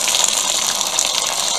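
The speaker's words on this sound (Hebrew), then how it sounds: "אני שופכת מים" Boiled water is poured from a kettle into a pot as a steady, close, bright gush of liquid that runs unbroken, with no voices.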